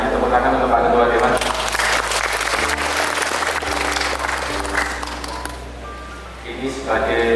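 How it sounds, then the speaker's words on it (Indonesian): Applause from a seated audience at a village-enterprise forum ceremony, steady clapping across the hall with a low hum underneath, fading somewhat toward the end before rising again briefly. "Tepuk tangan untuk Pak Ketua Dewan."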